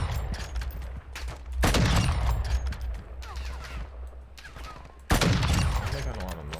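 Bursts of first-person shooter gunfire rattle close by in rapid volleys, with a heavy salvo around the middle and another sudden loud burst near the end, while a voice talks over parts of it.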